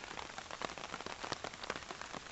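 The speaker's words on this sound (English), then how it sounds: "it can't stop raining since we've got here really" Rain falls steadily on a wild hammock camp at night near Ladybower dam during Storm Frank, a dense, close, hissing patter with irregular heavier drops throughout.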